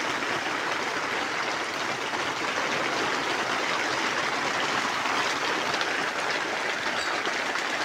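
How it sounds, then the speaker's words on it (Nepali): Water flows with a constant, bright hiss near a yak herders' shed in Solukhumbu, an even, unbroken wash of sound with no talk over it. "पानी त मजाले आइरहेको छ"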